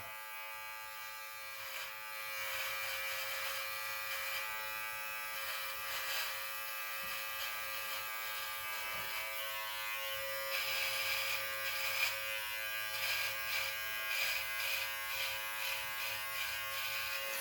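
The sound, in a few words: Brio Beardscape Pro electric beard trimmer running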